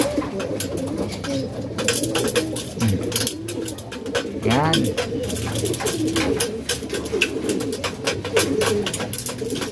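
Racing pigeons coo repeatedly at close range while being fed a snack, with wing flaps and shuffling among the flock and a brief spoken word over the steady cooing.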